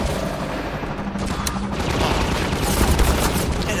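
Gunship firing in Half-Life 2 Episode One, a dense rumbling barrage of rapid gunfire and booms that swells louder toward the end, loud and continuous with no talk.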